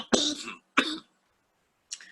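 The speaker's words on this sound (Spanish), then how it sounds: "cuando empiezo a botar la flema me agarra tos" A person with bronchitis coughs in three harsh bursts, two close together followed by a pause and a shorter third cough, loud and near with no speech.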